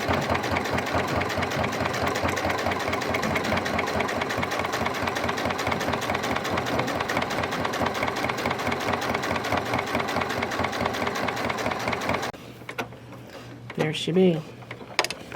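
A sewing machine runs continuously, close and steady, as it stitches two side-by-side lines of topstitching on vinyl for a Barbados bag, then stops near the end, where a voice speaks briefly.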